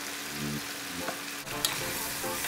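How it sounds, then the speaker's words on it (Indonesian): Thai-style chicken paprik being stirred in a hot pan with oyster, chili and tomato sauces, fish sauce and sweet soy sauce, a continuous close sizzle broken by scraping stir strokes. "Aduk rata."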